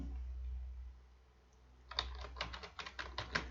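A computer keyboard is typed on in quick, uneven bursts of sharp clicks, starting after a short stretch of quiet background hum.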